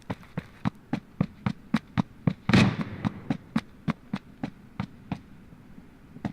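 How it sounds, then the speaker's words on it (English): Gunfire in the shooter game Ring of Elysium: a steady string of about twenty sharp, evenly spaced shots over several seconds, moderately loud, with one heavier burst partway through and a low hum underneath. "Getting shot from behind."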